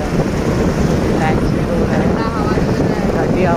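Cool wind blowing steadily outdoors in pleasant pre-rain weather, a loud continuous rushing roar that buffets the microphone and stays even throughout with no pauses.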